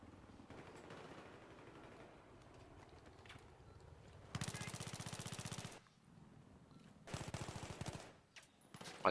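Automatic gunfire from the video game Battlefield 3 comes in two sharp, rapid bursts that stand out over quieter background game noise. No one speaks.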